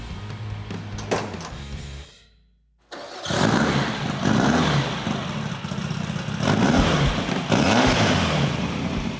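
A Class 11 desert race car's engine cranks after a brief pause and fires up, then settles into a loud, rough idle with a couple of throttle blips close by.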